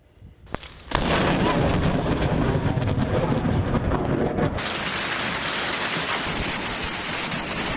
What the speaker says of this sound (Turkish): Ankara'da sabah saatlerinde başlayan yağmurla birlikte gökyüzü kara bulutlarla kaplandı